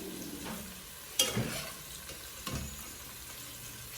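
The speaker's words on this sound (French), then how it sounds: "Maintenant, nous allons rajouter la viande cuite que on avait préparée avant la recette." Cooked beef being added to beef pilaf in a hot pan, giving a steady close sizzle with two stirring scrapes and clatters of the meat going in, and no talking.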